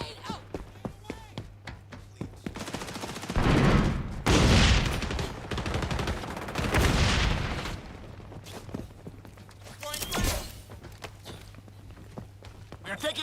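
A grenade explosion and gunfire in XDefiant: scattered shots first, then a loud booming blast with rumbling aftermath and more bursts and thuds, with voices talking over parts of the action.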